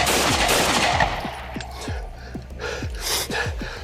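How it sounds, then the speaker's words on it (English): Gunfire during a police shooting, caught on a bodycam: a loud, close rapid series of shots over dense, harsh noise, with repeated sharp cracks. "shots fired, shots fired"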